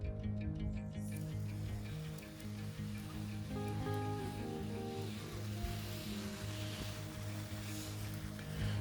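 A garden reticulation sprinkler connected to polytube sprays water in a steady, continuous hiss, with a constant low humming tone underneath and no pauses throughout.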